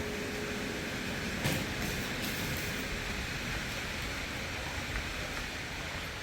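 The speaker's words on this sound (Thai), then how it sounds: "ฝนตกครับ" Rain falls steadily, a constant broad hiss of dense drops with a few slightly louder taps and splashes, no voices over it.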